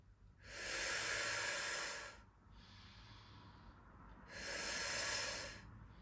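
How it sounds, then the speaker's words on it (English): Two long, slow breaths drawn in during an upper and lower back stabilizer fitness exercise, soft airy hisses close to the listener, separated by a short pause. "So we breathe in."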